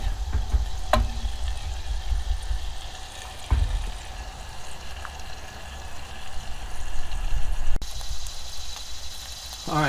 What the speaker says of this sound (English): You can hear it sizzling with that oil.